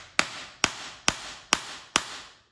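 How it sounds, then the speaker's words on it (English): Five sharp, evenly spaced hammer blows drive a nail into wood while building a toy sailboat, each strike a crisp crack with a short decaying ring, close and alone. "Don't keep hammering a bent nail."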